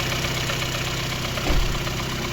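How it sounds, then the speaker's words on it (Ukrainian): A cold VAZ 2115 1.6 engine with about 50,000 km on it idling close by, its pistons rattling in a steady loud knock under an even drone. "Чуємо дуже чітко, як гремлять поршня, а ГБЦ у нас працює тихесенько."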